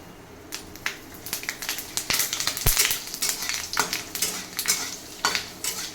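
Panch phoron spices crackle and sizzle in hot oil, with bursts of popping and spatter plus clinks of a utensil against the pan, busy and close.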